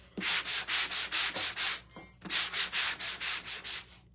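Light hand-sanding of a craft flamingo figure: about a dozen quick, even rasping strokes in a steady back-and-forth rhythm, close and fairly loud, with one short pause midway and no talking.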